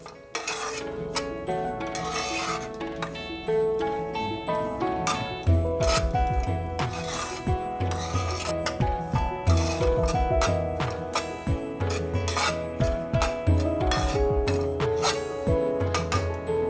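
A spoon stirring semolina in a pan over low heat, with a continuous metallic scraping and clinking against the pan, steady and close, with no voices.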